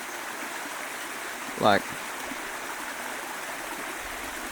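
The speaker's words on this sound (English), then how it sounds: "Just hanging out in this creek, and I'm a long way up the creek." Creek water near Mt Barren at the source of the Clarence River, flowing in a steady, close broadband rush throughout, briefly interrupted by a single short spoken word.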